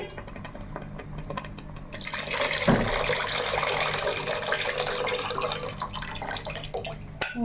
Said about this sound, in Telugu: ముక్క ములిగేదాకా మనం పులుసు అనేది వేసుకోవాలండి